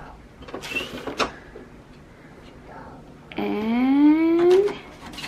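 Lever pulled down on a hole-punching comb-binding machine in a home setting, giving a short mechanical creak and rising grinding whine of a couple of seconds, close and fairly loud, after brief quiet handling noises.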